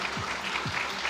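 A crowd at an event gives brief, dense applause as Ashish is welcomed with a bouquet from Mohanlal, continuous clapping heard close over a faint background tone.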